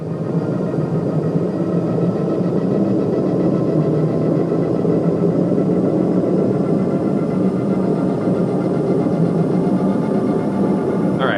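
A synthesized spaceship engine drones continuously at high revs, a dense steady roar with the pitch slowly climbing as speed increases, with no voices.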